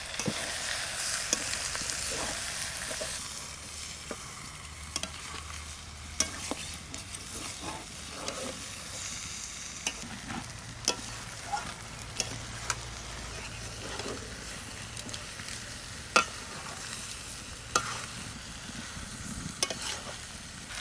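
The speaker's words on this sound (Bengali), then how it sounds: "এবার মাংসটা দিয়ে দিলাম তেল হয়েছে দেখুন এইবার মাংস থেকে কীরকম তেল বেরোয় দেখবেন" Duck meat frying in oil in a wok, a continuous soft sizzle with scattered pops and occasional stirring clinks, fairly quiet and steady, with no voices.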